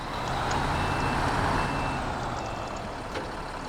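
Truck in the SnowRunner video game backing up, its reversing beeper chirping steadily over a loud, continuous engine drone and road rumble.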